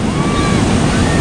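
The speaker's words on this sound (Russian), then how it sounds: "Кажется, большая волна." A big ocean wave breaks on a beach in Phuket, making a loud, steady, close rushing roar heavily mixed with wind buffeting the microphone.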